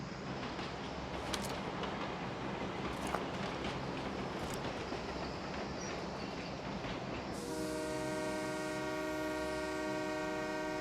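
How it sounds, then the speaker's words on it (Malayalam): A train approaches with a rising rumble and rattle of rail cars, then a loud sustained horn blast sounds near the end, heard up close and alone without talk. "The train is now approaching."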